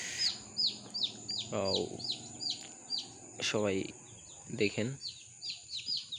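Quail chicks, about fifteen of them, and young chickens of Paumi, Tiger and cock breeds peep steadily in high repeated chirps close by, with someone speaking briefly partway through.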